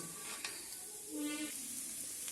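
A raw tomato and capsicum curry fries in a pan with a steady close sizzle and hiss, stirred now and then with a faint scrape, and no voices over it.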